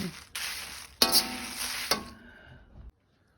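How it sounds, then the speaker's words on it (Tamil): Dried red chillies dry-roast in a small pan over a low flame, stirred in a few loud scraping and rustling bursts with a metallic clink, close by, before falling silent near the end. "நல்ல மிளகா வறுக்கிறேன் நல்ல லோ ஃப்ளேமில் விட்டுத்தான் வறுக்கிறேன்"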